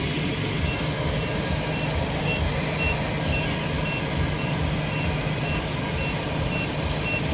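Street traffic with a vehicle's reversing beeps, heard as a steady, regular beeping over a continuous engine rumble and road noise.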